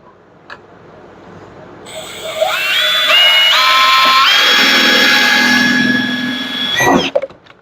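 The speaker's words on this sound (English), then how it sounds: "we have a clear shot of drilling our holes" Power drill boring holes to mount a winch wiring box, a steady high whine lasting several seconds with rising pitch steps as the bit cuts, close and loud, ending with a brief clatter.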